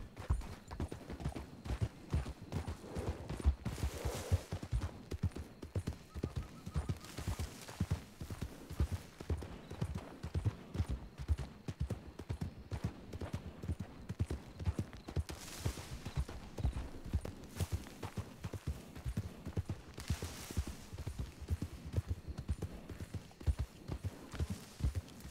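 Horses' hooves clip-clop steadily in the video game Red Dead, a long rhythmic trotting patter kept at moderate volume, with occasional brief swells of louder noise.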